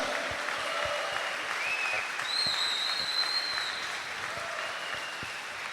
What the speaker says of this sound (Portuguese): Esse é o amor que merece um brado e uma salva de palmas.